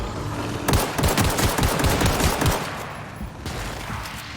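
Rapid bursts of gunfire in The Outer Worlds video game crackle loudly for a couple of seconds, then trail off into a lower rumble, with a few scattered shots near the end.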